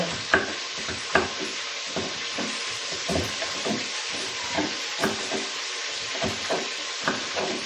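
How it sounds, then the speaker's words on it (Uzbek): Chicken frying and being stirred in a pan at home, a steady sizzle broken by repeated clanks and scrapes of the stirring utensil, close and fairly loud throughout. "Endi esa tovuq qovurish jarayonini ko'ramiz do'stlar"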